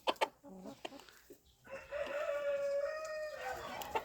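A rooster crows in a farmyard: a loud, sustained crow with rising and falling harmonics lasts about two seconds, preceded by a few short clucks and calls nearby.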